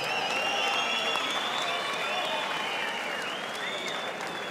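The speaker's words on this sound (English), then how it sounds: "a big round of applause for what was two rounds of an absolute war" A boxing-match crowd applauds steadily after a two-round fight, a dense, sustained wash of clapping and cheering with a faint whistle over it, holding loud throughout before easing slightly at the end.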